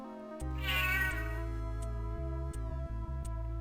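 A digitized cat meows once, drawn out and clear, over a low, steady synthesized music loop in the Sega CD video game Snatcher.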